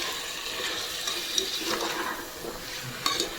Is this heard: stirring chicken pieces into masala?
yes